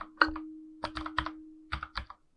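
A computer keyboard is typed on in quick bursts of close, crisp clicks with short pauses between them, while a folder is named in a cloud drive. A faint steady hum runs underneath.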